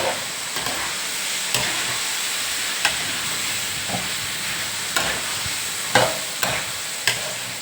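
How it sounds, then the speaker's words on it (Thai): Soft tofu stir-fried in a hot pan with mixed vegetables such as bean sprouts, asparagus and Chinese cabbage: a steady close sizzle and hiss, broken by regular scraping stir strokes every second or so, with no talking. "ผัดผักหลายอย่างรวมกันไปเลย มีทั้งถั่วงอก มีทั้งหน่อไม้ฝรั่ง มีทั้งผักกาดขาว"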